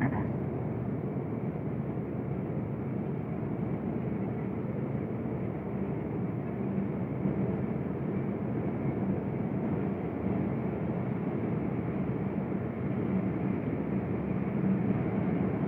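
The Allama Iqbal Express passenger train runs along its line near Dunyapur in Pakistan, a steady, loud, continuous low rumble that holds unbroken throughout, with no voices.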